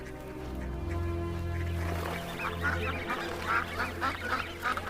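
Wild ducks in autumn in America give a chorus of nasal quacks and honks, starting under a sustained droning tone and then rising into repeated, moderately close calls in an uneven rhythm.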